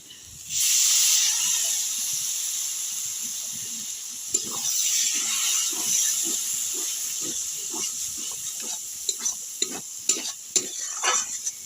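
A splash of water hits hot chicken masala and sets off a sudden loud hiss, which settles into a sustained sizzle broken by scraping stirs and a few sharp clinks.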